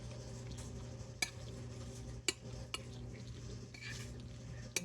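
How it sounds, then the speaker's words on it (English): Spoon stirring hot noodles in a pot while melting butter and seasoning into them: quiet scraping and swishing with a few sharp metallic clinks against the pot, close and soft over a low steady background hum. "I'm going to stir it around a little bit just so it melts."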